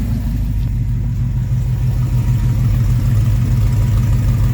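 A 1966 Plymouth engine with a freshly installed exhaust idles steadily up close, a deep, even low rumble that holds without a break throughout.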